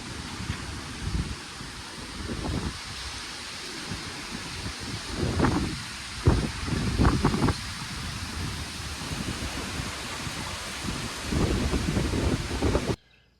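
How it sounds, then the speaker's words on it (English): Storm wind gusting through garden trees, a steady loud rushing hiss with several stronger bursts of buffeting and rustling, no voices. "The wind was blowing and the trees were bending."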